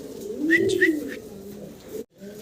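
A young pigeon gives a close, clear cooing call made of a few throaty rising and falling notes, heard alone with no talking.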